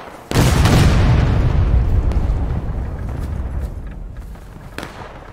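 A single loud cannon blast from a reenactment artillery battery, with a sharp onset followed by a long rumbling boom that fades slowly over several seconds.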